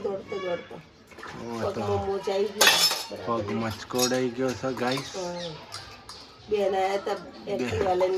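Dishes and cutlery being washed at home, with clinks and clatter of utensils, one louder burst of clatter, under steady nearby talk.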